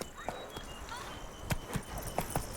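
Hooves of Roach, the horse in The Witcher 3, clip-clopping in a light irregular gait, fairly faint and close, with soft speech nearby.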